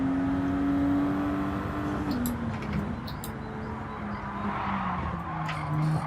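Toyota Supra race car in Gran Turismo 7 skids with a long, steady tire squeal, engine note droning beneath it throughout, loud and close.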